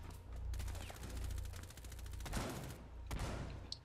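Shotgun blasts in the Rainbow Six Siege shooter game, with several sharp, fairly faint reports spaced unevenly across a few seconds over low background hum, and no talking.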